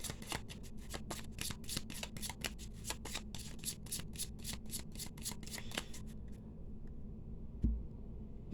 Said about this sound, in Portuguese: Baralhando as cartas aqui.